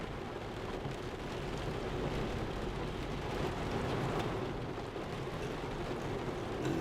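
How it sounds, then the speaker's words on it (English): A sudden heavy downpour pounds steadily on a car during a passing cold front, a dense continuous roar of rain with no pauses across the whole stretch. "This is like a sudden downpour, cold front blowing through."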